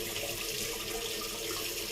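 Tap water running steadily into a sink while the face is wetted before a shave, a close, continuous hissing splash with no talk.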